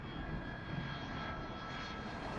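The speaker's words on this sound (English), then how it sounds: "The crew is flying an MD-80." Steady, fairly quiet roar of an MD-80 jet airliner's rear-mounted engines in cruise at 33,000 feet, a continuous broadband rumble with no talking.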